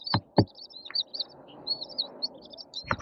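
Baby chicks give high, thin peeping chirps in quick scattered bursts, fairly close. A few louder knocks or thumps break in at the start and the end.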